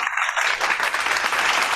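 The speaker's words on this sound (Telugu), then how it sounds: "వీళ్ళకి స్పెషల్ క్లాప్స్ ఇవ్వాలి మనం" Children clapping together as special applause, a dense burst of many small hands filling the whole short stretch, fairly loud and close.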